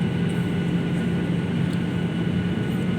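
A passenger airliner's cabin during descent toward Yogyakarta International Airport at Kulon Progo, a steady, loud, droning engine and airflow roar with a faint tonal hum, continuous and unchanging.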